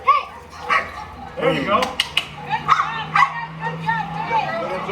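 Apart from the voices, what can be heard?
young dog yipping during bite work training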